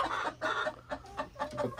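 Backyard chickens cluck in their coop, a quiet run of short, repeated clucks in an uneven rhythm, close by with no talking over them.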